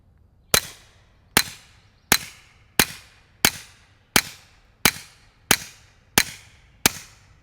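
A Retay RXP22 .22 pistol fires CCI Mini-Mag rounds in ten sharp, evenly spaced cracks, each about three quarters of a second apart, loud and close with short decaying tails and no voices.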